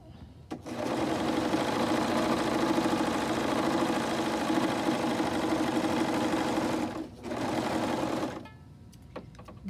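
A Husqvarna Viking Huskylock S21 serger stitches cotton fabric with a loud, rapid mechanical whirr that runs steadily for about six seconds, pauses briefly, then resumes before stopping.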